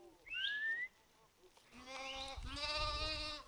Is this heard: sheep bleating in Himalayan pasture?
yes